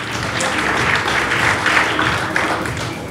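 Audience at a grappling event in Tbilisi applauding, a dense sustained wash of clapping for about three seconds, fairly loud and even with no clear speech on top.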